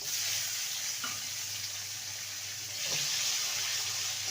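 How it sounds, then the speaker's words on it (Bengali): Two small tomatoes frying in a pan of oil for a Bengali katla fish and vegetable curry, giving a steady broadband sizzle with a couple of faint utensil taps, no voices. "টমেটোটাকে দু মিনিট ভেজে নেব"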